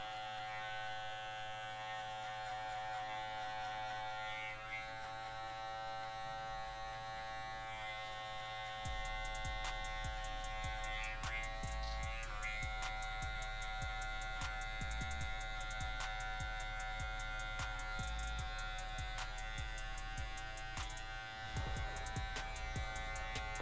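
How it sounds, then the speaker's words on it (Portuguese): An electric hair clipper cuts hair for a fade, buzzing steadily and close by, with a louder, lower hum kicking in partway through as it works, and no talking. "Usando um ângulo de 45, ó. Só a quininha da maquininha."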